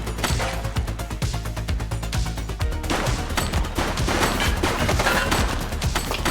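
Rapid gunfire in The Precinct police video game, a dense, loud stream of shots crackling continuously throughout, close and unbroken, with no clear speech.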